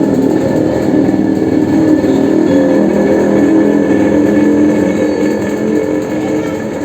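Steady, loud engine roar from a vehicle on the road, a continuous droning rumble with no pauses that fades slightly toward the end.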